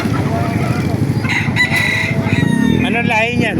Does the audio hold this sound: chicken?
yes